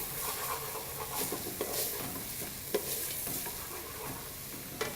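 Chopped vegetables fry in olive oil for a vegan vegetable and red wine pie filling, giving a soft, steady sizzle broken by light stirring taps and clicks of a utensil in the pan; no voices.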